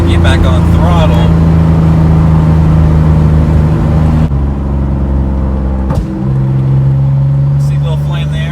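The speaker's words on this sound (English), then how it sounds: "Usually you just give it some throttle, let it kind of rev down on its own" The turbocharged 3.8 engine of a Hyundai Genesis Coupe drones loudly and close, holding a steady tone, then dipping and climbing back as the throttle changes, with someone talking over it.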